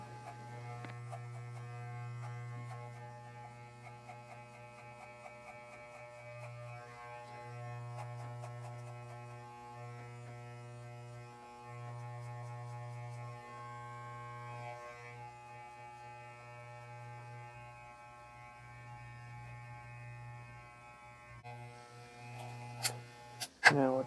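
Electric hair clippers fitted with a number 1 guard buzz steadily as they cut hair in a self-administered skin fade, a close, continuous hum with slight pitch dips as they pass over the head.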